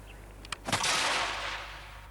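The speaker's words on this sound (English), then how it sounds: "And now I'm going to take this gun onto the range and show you how it fires." An antique English Brown Bess musket made in 1757, with a 46-inch barrel, fires on a range: a sharp click and flash crack followed by a single loud boom that decays over about a second and a half.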